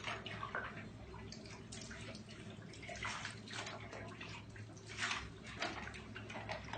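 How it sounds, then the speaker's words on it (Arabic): Water splashes and swishes continuously at low level as a fox pelt is washed with shampoo during taxidermy, with faint dripping and gurgling throughout. "حاليا نقوم بغسل الفرو مالته، شامبو زين"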